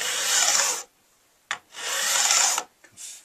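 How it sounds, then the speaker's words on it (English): Two long rasping strokes of a fret levelling file across the frets of a Vintage V99 guitar, close and loud, separated by a short pause and a sharp tap, with a third stroke starting at the end. "Fret levelling ahoy."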